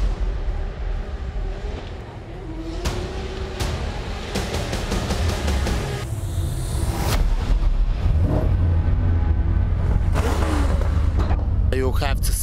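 A pack of 1000-horsepower drift cars at a street parade in Riga, with engines roaring and revving in waves over a constant loud rumble, plus sharp bangs and crowd noise throughout.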